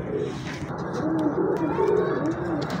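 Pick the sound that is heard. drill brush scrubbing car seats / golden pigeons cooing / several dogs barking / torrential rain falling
golden pigeons cooing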